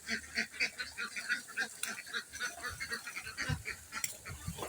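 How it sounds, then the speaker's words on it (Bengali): Ducks going into the water and feeding give a steady run of overlapping quacks and honking calls, close and fairly loud, with no talk over them. "সব পানিতে নামছে, কিছু হাঁস পানিতে, কিছু হাঁস খাচ্ছে"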